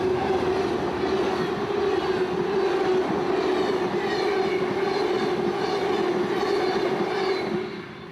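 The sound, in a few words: Amtrak 91 passenger train passing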